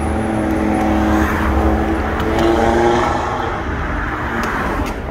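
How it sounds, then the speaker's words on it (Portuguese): An Audi TT RS and an old white DS3 drive past on the road, their engines humming steadily at moderate volume as a car's tone swells and fades past the listener. "tá vindo uma Audi TT, eu acho que é RS, azul, e do lado um DS3 branco, velho"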